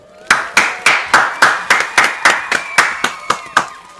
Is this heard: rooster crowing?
no